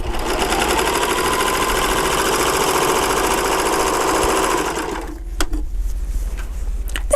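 An overlock serger runs at speed in a rapid, even mechanical whir for about five seconds, then stops, leaving a few light clicks and handling noises.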